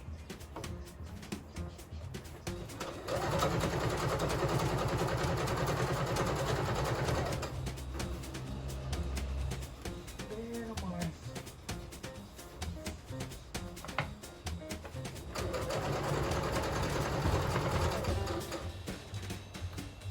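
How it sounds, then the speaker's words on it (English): A sewing machine stitching a ribbon skirt runs in two long stretches of steady whirring, near and fairly loud. Between them comes a quieter pause filled with small handling noises. "we have this much sewing on the skirt to do"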